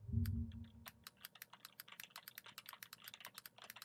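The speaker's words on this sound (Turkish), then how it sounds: "Daktilo sesini isterseniz kapatıp isterseniz arttırabiliyorsunuz." Rapid typewriter-style keystroke sound effect from the Opera GX browser, clicks irregular and crisp, continuing steadily after a brief low thump at the start.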